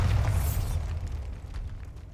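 A Bombarda spell explodes in Hogwarts Legacy inside a tomb, a loud deep boom that bursts at once and then rumbles away over about two seconds, with no one talking.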